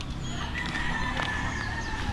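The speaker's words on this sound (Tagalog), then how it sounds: "Ayan o, pinagkakakana ng manok." Chickens cluck and crow in a busy farmyard, steady background noise with several overlapping fowl calls.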